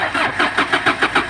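A Kia Bongo 3 with a hard-start fault cranks in rapid rhythmic pulses, the starter churning close and loud, the engine straining to catch.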